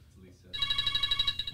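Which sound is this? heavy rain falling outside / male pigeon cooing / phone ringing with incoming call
phone ringing with incoming call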